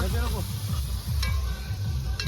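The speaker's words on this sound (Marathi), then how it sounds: "तर चला आता टोमॅटो आणि मिरची वगैरे टाकून घेऊया" Tomatoes and chillies fry in a pan for an Agri-style mutton dish cooked outdoors by a riverside, giving a steady close sizzle with rhythmic scraping stirs and a couple of brief clinks.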